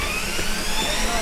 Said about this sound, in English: that's an octocopter. That's an 8-prop helicopter.